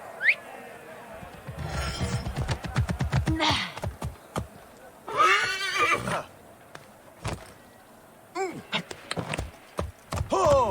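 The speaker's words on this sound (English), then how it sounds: "I should find a horse." A horse neighs and whinnies in the Assassin's Creed video game, with loud, close calls repeated several times between hoof clip-clops, brief breaths and game sounds.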